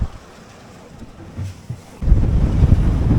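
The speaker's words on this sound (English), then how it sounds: "So just how strong is the wind?" High wind and building seas hit a 21 foot sailboat, first as a low, unsteady rumble with a few swells, then a sudden loud, dense roar of wind buffeting and surging water for the final second.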